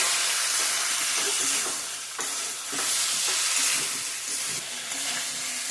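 Hot water hits spiced cauliflower masala frying in oil for a Bengali paneer, cauliflower and potato dish. A loud, steady sizzle fills the sound, broken by scraping stirs.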